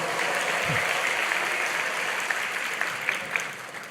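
A church congregation at a Friday worship service claps together, a sustained, even roar of many hands throughout, with a few sharper claps poking out toward the end.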